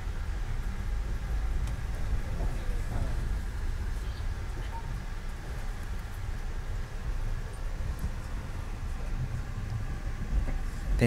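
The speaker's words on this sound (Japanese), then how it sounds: "列車はまもなくカナダのナイアガラホールズ駅に到着します" An express train nears Niagara Falls station in Canada, heard from inside as a faint, continuous rumble of wheels and carriage noise, steady and even throughout.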